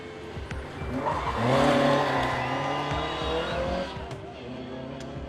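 A rally car on the Tour of Mull runs down a glen, its engine climbing in pitch as it nears, peaking loudly, then fading away with some tire noise in the mix.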